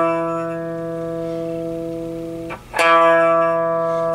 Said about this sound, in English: And then some distortion,